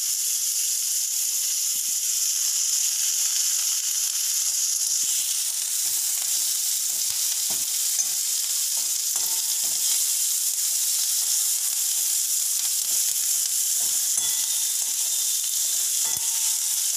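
Curry leaves sizzle and crackle steadily in hot oil in a pan, a continuous bright frying hiss broken by small pops and the soft scrape of tossing, with no talking.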